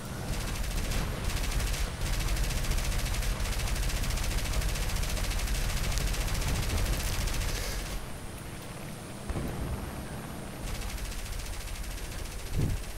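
Aircraft gunner on a bomber firing machine guns in War Thunder, dense continuous bursts of loud gunfire for several seconds, then a quieter stretch with engine drone and further short bursts.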